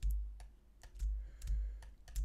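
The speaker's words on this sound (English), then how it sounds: "I'm going to hit Command on my keyboard." Keys clack on a computer keyboard, several crisp taps spaced about half a second apart over a low steady hum.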